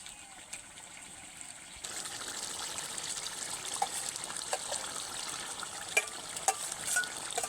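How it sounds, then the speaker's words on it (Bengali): Spinach paste, hand-ground on a grinding stone, goes into chicken cooking in a pan for palong chicken. A faint wet hiss and soft sizzle rises after about two seconds and continues steadily, with scattered light clicks and no talk. "আর বাকি যে পালং শাকের বাটা ছিল সেইটা এবারে দিয়ে দেব"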